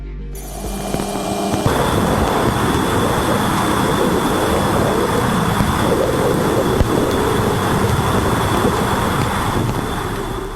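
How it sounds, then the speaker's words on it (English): Electromagnetic waves from Uranus, picked up by Voyager 2's plasma wave antenna, come through as a steady, dense roaring hiss like strong wind or rushing rail noise, broadband and unbroken with a faint high whine on top. "This is the sound of the electromagnetic waves coming from the gas giant Uranus,"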